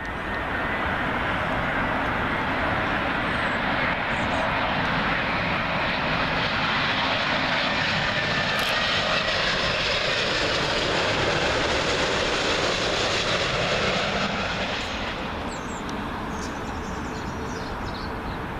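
A heavy Finnair Airbus A350 arriving from Helsinki roars in to land at Heathrow's runway 27L, a loud, continuous broadband engine rumble that swells and holds for most of the stretch before easing slightly near the end, with no talking.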